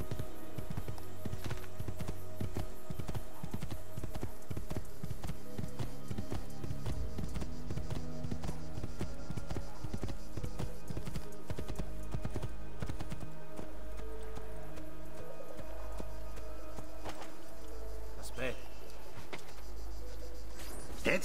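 A horse gallops in the video game Assassin's Creed 2, with rhythmic hoof clip-clops under a dense bed of game music and ambient insect chirps, steady throughout.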